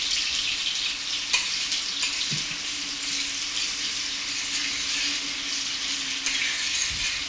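Tomato paste and onions for beef jollof rice fry with a continuous bright sizzle while a utensil occasionally scrapes and stirs through the pan.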